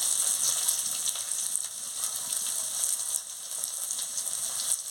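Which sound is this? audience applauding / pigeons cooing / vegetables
vegetables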